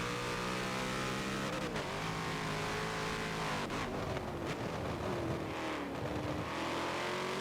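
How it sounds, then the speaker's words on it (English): Race car engine in a 24-hour Le Mans endurance race in a racing video game, revving loudly and steadily with repeated pitch drops and climbs as gears shift, continuous and close throughout. "So hearing a lot of shifting from SVR Twitch, probably just getting used to the car again"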